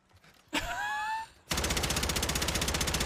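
Rapid automatic gunfire in the battle royale game Warzone erupts suddenly and loud after a short groan-like sound, then rattles on in an even, fast rhythm.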